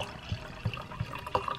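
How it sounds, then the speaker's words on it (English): Sauvignon Blanc poured thickly into a wine glass, a soft liquid trickle with low glugs repeating at a steady rhythm, close and quiet. "We're gonna do a nice thick pour today"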